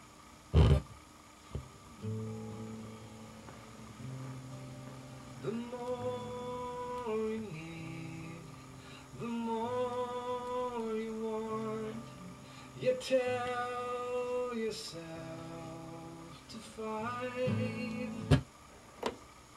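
Music plays back from a flexi disc record at 45 rpm, sustained tones in phrases with brief gaps and a sharp click near the start and end, moderately loud with some surface noise.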